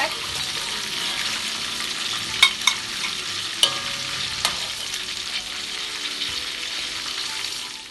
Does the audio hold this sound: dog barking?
no